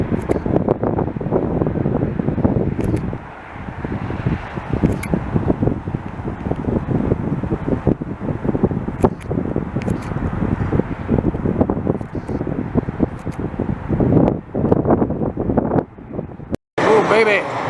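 Strong gusting wind buffets the microphone outdoors at Montreal airport while plane spotting, a loud continuous rumbling roar, with a person speaking over it.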